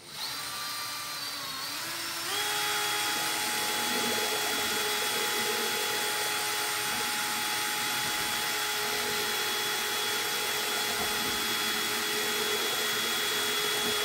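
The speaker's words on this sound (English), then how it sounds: "when you're mixing with the drill, it really covers a lot" A steady, loud whirring drill with a mixer attachment stirs epoxy resin continuously, its motor pitch rising and settling after a couple of seconds, then holding a constant buzzing drone.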